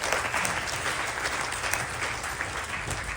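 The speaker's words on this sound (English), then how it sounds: "Please give them a round of applause." Devotees applaud at a Ganesh Chaturthi celebration, a dense, even wash of clapping from a sizeable crowd that holds steady and fairly loud throughout.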